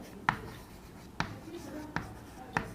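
Chalk on a classroom board taps and scratches in four short, crisp strokes spaced about a second apart, faint against a quiet room.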